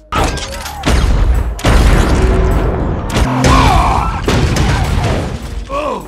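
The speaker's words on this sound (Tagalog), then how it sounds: "nag-transform si Bumblebee at pinasabog ang Decepticon police car" A Decepticon police car blows up in a Transformers movie, with heavy booming blasts and crashing debris in loud bursts. Whooshing effects follow and a voice speaks in the gaps.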